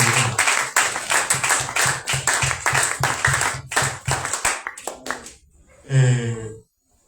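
A church congregation claps at a commemorative conference, with rapid, irregular hand claps close by that thin out into a few scattered claps before a brief voice and then silence.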